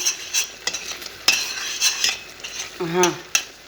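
A ladle scrapes and clinks against a pan while scooping macaroni sauce with olives. There are scattered metallic taps and scrapes, one short squeaky scrape, and soft sizzling underneath, all fairly close and quiet.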